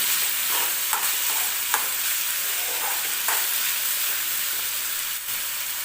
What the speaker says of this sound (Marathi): टोमॅटो व्यवस्थित भाजून घ्यायचा कच्चा नाही राहिला पाहिजे